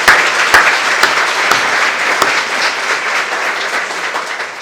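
Luncheon audience at a women in leadership event breaks into steady applause, dense hand clapping with a few sharp louder claps standing out, sustained throughout and fairly loud.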